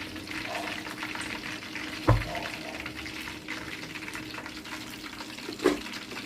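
Chicken nuggets frying in hot oil, a steady soft sizzle running throughout with a couple of brief louder clatters from stirring or moving the pieces.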